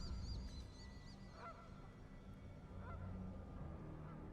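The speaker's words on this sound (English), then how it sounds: "This one actually played some goose sounds." Goose honking from a card game, several nasal honks scattered over a low steady background hum, at moderate distance and without any talk.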